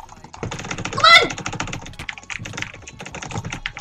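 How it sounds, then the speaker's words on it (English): A computer mouse is jitter clicked in a rapid, dense stream of clicks heard close up, with a brief vocal exclamation partway through. "Oh my god, we're jitter clicking so quick."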